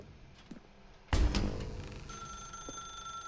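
An old telephone suddenly starts ringing loudly in The Stanley Parable video game after a quiet stretch, with a bright, sustained ring that lingers and settles into a steady electronic tone.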